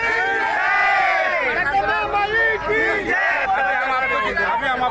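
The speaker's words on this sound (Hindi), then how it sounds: "काफी भीड़ लगी हुई है" A large crowd at a Sevalal Maharaj Jayanti rally roars with loud, continuous shouting and chanting voices that fill the whole stretch with dense, close-up babble.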